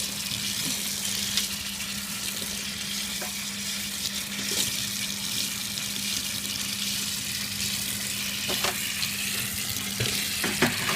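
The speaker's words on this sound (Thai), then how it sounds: "แล้วก็ใช้แปรงขัดนะครับ" A brush scrubs a phone that was dropped in seawater, the work done in plain fresh water with no cleaning agent. Steady wet splashing and swishing runs close and continuous throughout, with a constant low hum underneath.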